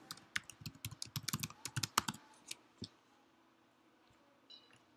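Rapid burst of clicking keystrokes on a computer keyboard as a password is typed, about two seconds of close, crisp taps, then a few isolated clicks and quiet.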